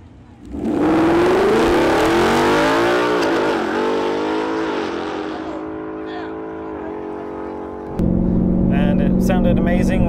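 A Ford S550 Mustang fitted with an AWE Touring cat-back exhaust pulls hard at full throttle, its loud engine note climbing and then easing off before a deeper steady drone returns; no talking over it.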